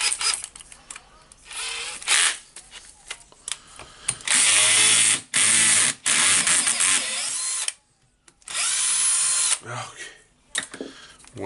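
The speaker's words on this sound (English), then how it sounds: "So now I'll try to get it with the drill." Power drill working during disassembly of a Hitachi DH40MR SDS-max hammer drill, running in several loud bursts of a few seconds each, separated by pauses with clicks and handling noise.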